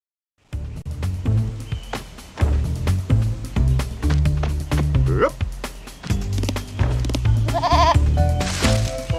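A goat bleats in the Yogi Bear video game, with repeated wavering cries over bouncy game music and sound effects, fairly loud and close throughout.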